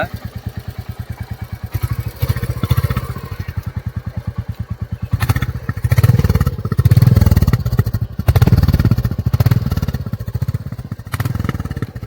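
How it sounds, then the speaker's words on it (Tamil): A Royal Enfield Classic 350 motorcycle engine runs close and loud, its steady thumping beat holding throughout with a few swells as the throttle blips. "வண்டியோடைய சவுண்டு பாருங்க"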